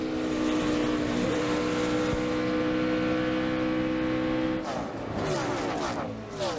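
A race car engine at a 2006 Dollar General 300 drones loudly at a steady pitch, then falters and fades slightly before other cars roar past with rising and falling whines, announcer talk faintly underneath.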